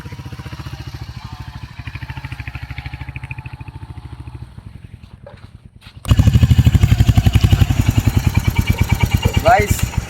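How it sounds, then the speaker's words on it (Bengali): A Royal Enfield Hunter 350 single-cylinder motorcycle thumps at a steady idle nearby, then its engine note jumps louder and busier as it pulls away and is ridden, the rhythmic exhaust pulses continuing throughout with voices faintly underneath. "তো এখন বাইকের যে ওনার সে একটু চালিয়ে দেখাচ্ছে"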